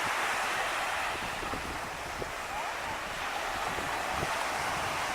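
Gentle ocean surf washes steadily onto a beach near Haleiwa, mixed with wind rumbling across the microphone; no distinct breaking crashes.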